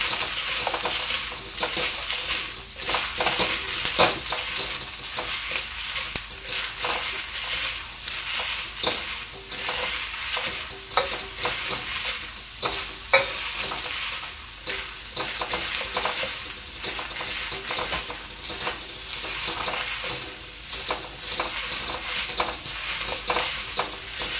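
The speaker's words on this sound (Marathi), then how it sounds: "हे बघा, आता आपण तांब्याने मॅश करून घेऊया" Roasted green peas crushed with a metal tumbler, giving steady gritty grinding and repeated pressing taps close up, with no talking.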